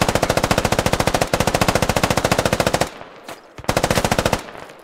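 Sustained automatic gunfire in the military shooter game Squad, loud, rapid evenly spaced bursts from a nearby weapon that break off briefly with a single shot before resuming.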